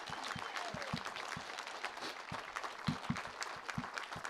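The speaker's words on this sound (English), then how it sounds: "Can we jointly give them a round of applause to welcome them" Audience applause fills a commencement ceremony, a steady wash of many hands clapping throughout, moderately loud with individual claps standing out near the front.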